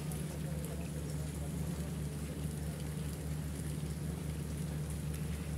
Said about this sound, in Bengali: ভালোই তো বৃষ্টি পড়তেছে